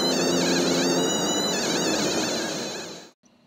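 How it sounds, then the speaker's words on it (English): A tri-field electromagnetic field meter emits a steady, dense buzzing whine with a wavering upper tone beside a major road, loud and continuous for about three seconds before it cuts off abruptly. "The noise you hear in the background is the tri-field meter."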